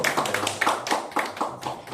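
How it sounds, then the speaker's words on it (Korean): At a Sunday worship service, a church congregation claps in quick, even rhythmic bursts, bright and close, filling the room with a crisp patter. "박수로 쳐주시고요."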